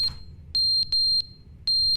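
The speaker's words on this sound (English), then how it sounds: "It's a smoke alarm." A smoke alarm in the video game The Stanley Parable: Ultra Deluxe emits short, piercing high beeps, three or four in quick succession, loud against a faint low hum.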